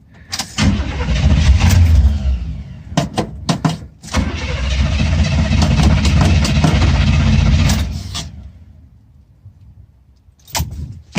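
A Chevrolet Scottsdale pickup, left sitting for a few weeks, is cranked in short bursts before its engine catches and runs loud for several seconds, then drops away; more brief cranks follow near the end, with no talking.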